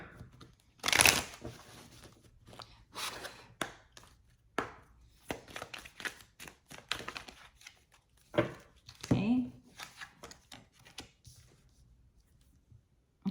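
Manifestation oracle cards are shuffled by hand in a run of soft, quick riffling bursts and papery slaps, close and moderately quiet, with a voice talking in between.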